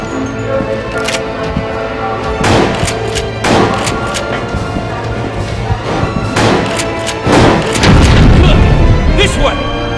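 Shotgun blasts in Resident Evil: The Darkside Chronicles, several heavy booming shots spaced a second or two apart over a constant loud game backdrop with music.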